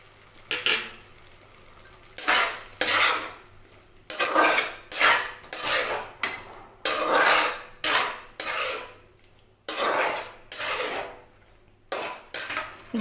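A spoon scrapes and clanks around a pot while mixed vegetable kootu with turmeric is stirred, in a dozen or so rhythmic bursts separated by short pauses, close and fairly loud with no talking.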